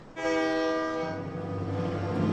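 A train horn blasts loudly and holds as the train departs in Paper Mario: The Thousand-Year Door, then fades into a low rumbling engine drone.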